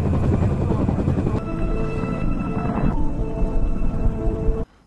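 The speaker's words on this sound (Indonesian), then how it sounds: "akhirnya helikopter penjemputan juga tiba di sana" A rescue helicopter arriving, its rotor thudding and engine whining loud and close, a steady heavy drone with a tonal whine that cuts off abruptly at the end.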